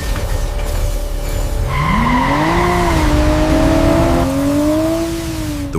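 A car brakes hard and its tires slide, producing a loud, wavering high squeal that rises and bends over a rough road rumble for several seconds, with no voices.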